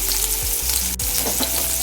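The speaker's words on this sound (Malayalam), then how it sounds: "രണ്ട് പാത്രത്തിലായിട്ട് ഞാൻ ചിക്കൻ വറുത്തിട്ടുണ്ട്" Chicken fries in a pan with a strong, continuous sizzle, with brief scraping and stirring sounds from a utensil.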